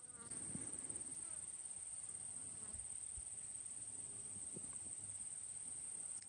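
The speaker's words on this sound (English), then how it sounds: "Kind of the sound of crickets and grasshoppers" Steady, dense insect chorus of crickets and grasshoppers chirping continuously in a chestnut orchard, with a high constant trill and a few faint low bumps.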